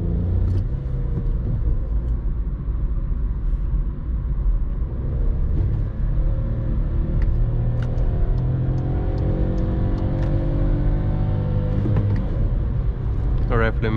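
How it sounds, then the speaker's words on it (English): A naturally aspirated car engine without a turbo drones with a deep, steady rumble, its revs rising and falling through the middle as it works to keep pace with traffic, heard from close up. "This car has an interesting sound, but no aggression. No turbo,"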